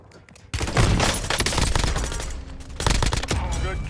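Call of Duty gunfire erupts suddenly into loud, rapid automatic bursts and overlapping shots, easing slightly before another heavy volley, with a faint voice under the shooting.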